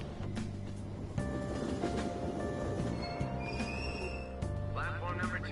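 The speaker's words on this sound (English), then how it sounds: "Get on the train." Train in Persona 5 Royal, a Tokyo service to Asakusa: continuous rumbling rail noise with steady tonal hums and squealing overtones, brief shifts in pitch as the carriage moves, with faint voices mixed in.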